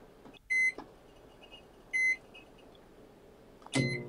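A microwave oven's keypad gives three separate short electronic beeps, spaced a second or more apart, over a faint background hum in a quiet kitchen.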